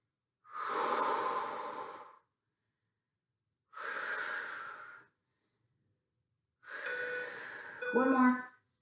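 Heavy workout breathing, three long loud exhales or gasps separated by short silences, the last breath ending in a strained, wheezy rasp.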